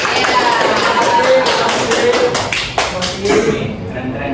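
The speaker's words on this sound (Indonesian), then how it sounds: "Boleh tepuk tangan dulu ke semua." A classroom of students applauding, a dense burst of many hands clapping close by that continues steadily for several seconds before tapering off, with some voices mixed in.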